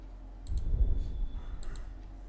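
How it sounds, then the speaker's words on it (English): A computer mouse gives two quick double-clicks, one pair near the start and another just after halfway, crisp and close over a faint low hum. "So just double click it to extract this zip file."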